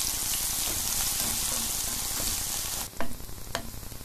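Garlic and chopped onion frying in hot oil for a dal tempering give a dense, steady sizzle close by. It cuts off abruptly near the end, leaving a few sharp clicks and faint crackles.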